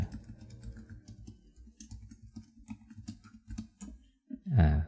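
Computer keyboard keys tapped in a quick, irregular run of close clicks while coding in Java, with a louder thump at the end.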